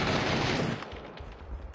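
Gunfire in a PUBG esports match, a dense burst of rapid automatic shots at first, then a few sparser distant pops, loud and without speech.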